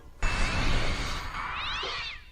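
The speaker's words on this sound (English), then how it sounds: "Cat Wilhelm scream." A loud, sustained cat scream starts abruptly and holds for about two seconds, ending on a wavering, yowling tail. It is used as a Wilhelm-scream-style effect in a film, and no one talks over it.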